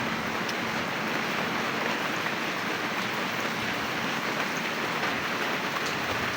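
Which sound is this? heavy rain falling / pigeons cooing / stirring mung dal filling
heavy rain falling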